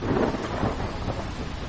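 Heavy rain with rolling thunder in a Hindi jungle cartoon, a steady dense downpour hiss under a low continuous rumble, loud and close.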